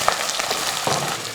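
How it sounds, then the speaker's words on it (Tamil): Long-sliced onions and capsicum fry in a pan for Nellai chicken chukka, filling the clip with a loud, dense, close sizzle that holds steady throughout. "ஸோ நம்ம நீளமாக அரிஞ்சு வச்சுருக்கிற வெங்காயமும் குடமிளகாவையும் போடுறோம்."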